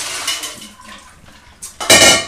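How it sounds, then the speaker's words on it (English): Water from a pot of chilled hard-boiled eggs is poured out and splashes loudly into a sink in a short gush, the rush swelling at the end. "discard our water"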